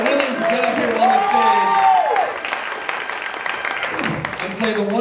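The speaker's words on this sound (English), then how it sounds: "ladies and gentlemen, a round of applause, please, for our wonderful contestants" A crowd at a party stage show claps and cheers for game contestants, while a voice talks over the steady applause and pitch-bending music or effects sweep through the first half.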